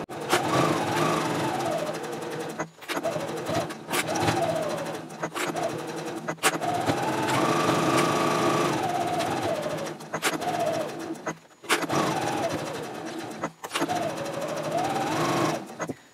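Stitching basting seams at a long stitch length, a sewing machine joins interior and exterior zipper case pieces in loud, close bursts separated by short stops.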